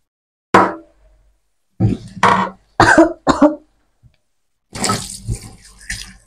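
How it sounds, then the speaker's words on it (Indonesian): Several sharp coughs in separate bursts, close and loud, followed by a longer rough throat-clearing rasp. "Ya aku batuk-batuk."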